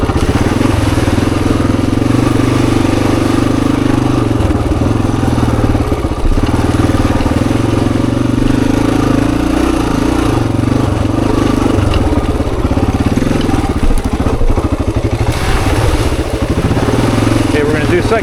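A Honda XR400 dirt bike engine runs loud and close throughout, a continuous throaty thumping roar with slight shifts in pitch, with a voice talking over it.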